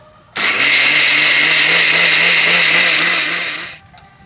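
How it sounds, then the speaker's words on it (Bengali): A kitchen mixer grinder whirs loudly as it grinds soaked rice with a little water, starting abruptly, holding a steady high-pitched motor drone for about three seconds, then winding down and stopping. "অল্প জল দিয়ে চালটাকে বেটে নেব মিক্সিতে এবার ঘুরিয়ে নেব"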